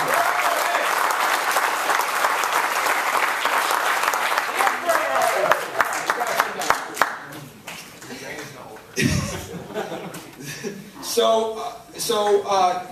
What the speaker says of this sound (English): Let's give him a serious round of applause.